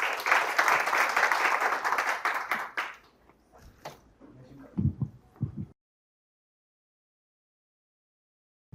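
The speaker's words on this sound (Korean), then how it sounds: "그럼 큰 박수 부탁드립니다" Audience applause at a startup investor demo day presentation, a steady wash of many hands clapping for about three seconds, then thinning to scattered claps before fading to silence.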